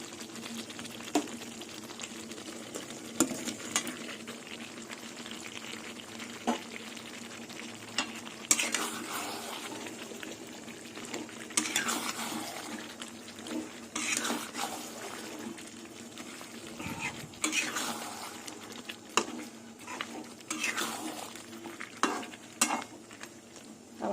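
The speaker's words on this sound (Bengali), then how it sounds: "ভাজা আলুগুলো দিয়ে কিছুক্ষণ আবার কষিয়ে নেবো" Steady frying sizzle of chicken and fried potatoes with a spoon stirring and scraping in the pan, irregular clinks and scrapes over a continuous hiss, close by.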